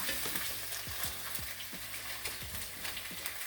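Steady sizzling of pork frying in a pan for humba, with occasional soft scrapes and taps of a utensil, no voices.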